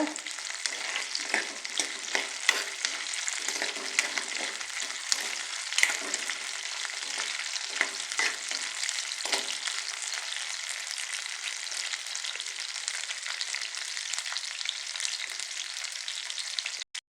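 Ginger, garlic, onion and dried red chillies fry in hot oil for a coriander chutney, a dense, steady sizzle that holds loud and even throughout with no voices.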